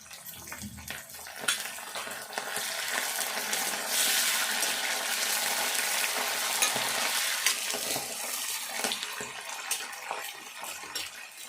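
Curry leaves and fenugreek leaves fry in hot oil for a tomato rasam, a loud continuous sizzle and crackle with stirring scrapes, close up and without talk.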